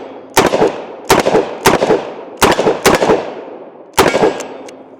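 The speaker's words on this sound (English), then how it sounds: "So let's go ahead and take some shots with old 357 here." .357 revolver fitted with a Midwest Industries brace fires six loud, close shots at uneven intervals, each a sharp crack with a brief echo trailing off.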